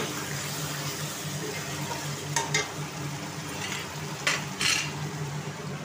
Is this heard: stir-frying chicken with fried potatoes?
yes